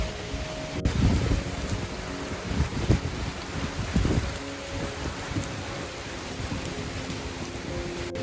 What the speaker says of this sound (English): Right now it's just sort of heavy rain.